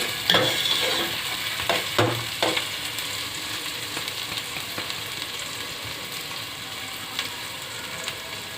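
Chopped apple gourd (tinday) and chicken sizzle steadily in a hot pan over medium heat while a spoon scrapes and stirs a few times early on, close and moderately loud, with no talking.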